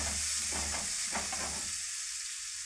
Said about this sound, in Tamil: வெங்காயம் போட்டு நல்லா வதங்க விடுங்க.